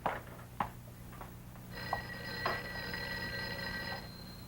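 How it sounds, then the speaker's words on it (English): An office telephone rings with a steady electric bell tone that starts partway through, after a few faint ticks and knocks, and continues loud and unbroken to the end. "I think your phone is ringing."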